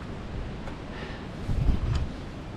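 Cold wind blows and buffets a microphone outdoors at the Washington Monument on the Appalachian Trail. It is a low, rumbling rush that swells into a stronger gust midway, with no one talking.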